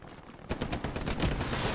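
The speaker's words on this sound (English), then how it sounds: "I just heard an MG right here up ahead of it" Machine gun fire in a WW2 game set in Sainte-Mère-Église, a dense burst of rapid overlapping shots after a quieter start, steady and moderately loud for the rest of the moment.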